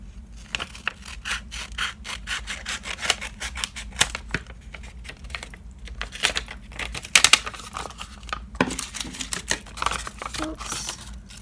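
Scissors trim a handmade paper hair dryer squishy up close, with a rapid run of crisp snips and paper rustles, some louder cuts mid-way and faint talk in the background.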